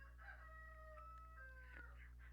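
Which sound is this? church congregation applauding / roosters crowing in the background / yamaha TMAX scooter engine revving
roosters crowing in the background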